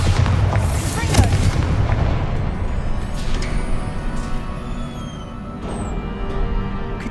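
Booming spell blasts, Bombarda and Confringo, in Hogwarts Legacy, rolling in as a dense, loud barrage of explosive impacts that thins into a softer rumble with scattered lighter hits.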